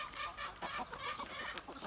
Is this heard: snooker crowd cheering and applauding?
no